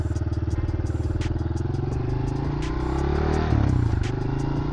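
A brand-new pit bike's small single-cylinder engine putters in a fast, even rhythm up close, rising briefly in pitch as it revs before settling back, loud and without speech.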